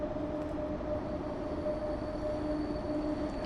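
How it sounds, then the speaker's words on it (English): A Class 90 electric locomotive hauling freight from Carlisle to Wembley in Train Sim World, with a sustained tonal rail squeal ringing over continuous wheel rumble and rolling noise, and no talking. "I also like the rail squealing on this unit"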